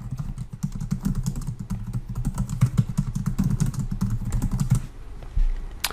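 Rapid, uneven keystrokes clatter on a computer keyboard for about five seconds while a username and password are entered, close and fairly loud, then stop abruptly near the end.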